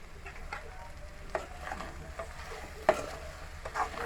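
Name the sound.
stirring okra curry in a pan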